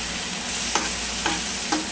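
Cabbage and eggs are stirred in a hot pan, giving a steady sizzle. Three quick spatula scrapes land at even intervals.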